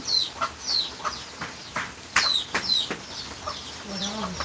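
Short bursts of clucking and chirping from nearby chicks, several calls spread irregularly with a faint background hiss, on a rainy day.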